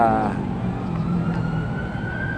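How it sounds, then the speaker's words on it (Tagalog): An ambulance siren with a rising tone, heard over steady traffic and road noise. It carries through the whole clip at moderate distance. "May ambulansya."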